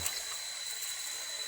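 Steady rushing water flows continuously, a soft hiss of a small creek running nearby with no voices.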